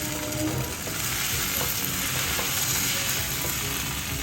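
Sona Masoori rice for tomato pulao frying and being stirred in a pan, a close, steady sizzle with occasional scraping and clinking of the utensil, heard alone without talk.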